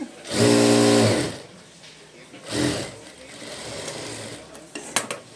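A sewing machine stitches a baby blouse in two short motor bursts, the first about a second long and the second briefer, with quiet handling noises and faint clicks between them.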